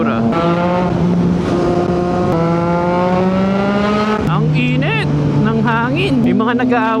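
A sports car engine drones loudly and steadily on a road, its tone shifting partway through, while a person talks over it.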